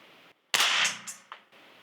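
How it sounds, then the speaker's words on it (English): A single shot from a suppressed firearm cracks out up close, a sharp burst with a short tail, set between quiet stretches of outdoor background. "Let's put the suppressor on, see what it does."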